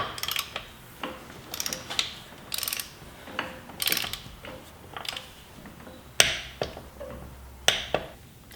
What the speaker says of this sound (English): tighten the nut in here until you hear the click